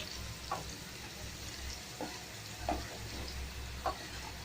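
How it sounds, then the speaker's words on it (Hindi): Potato pieces frying in hot oil in a pan for a dahi bhindi recipe, a steady sizzle with a few sharper stirring scrapes at intervals, close up and without talk. "चलिए हम लोग आलू को भी फ्राई कर लेते हैं।"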